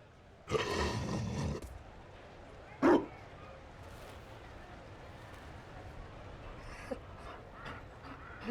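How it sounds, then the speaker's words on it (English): A dog, a Mabari in Dragon Age: Inquisition, gives a rough bark-like burst and then a sharp single bark, amid quiet game ambience with faint later sounds. "You found a dog?"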